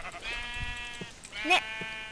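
Sheep bleat in the Minecraft video game, several wavering nasal bleats in quick succession with one louder cry near the end, close and clear over a faint background.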